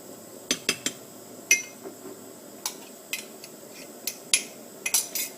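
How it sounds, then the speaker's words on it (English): A metal spoon clinks against a cup of Swedish egg coffee while stirring, with irregular sharp taps and light rattles, close and fairly quiet, no talking. "Do a little bit of stir."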